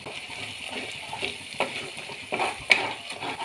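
Chicken masala spices in oil are stirred in a pan for a Kashmiri chicken masala curry, giving a quiet, steady sizzle broken by a few soft scraping stirs and one sharper clack near the end.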